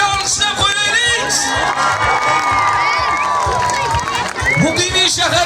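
A large crowd, many of them children, at an outdoor concert in Kokand cheers and claps loudly, with shouts, whoops and high voices over a continuous roar and a stage voice mixed in.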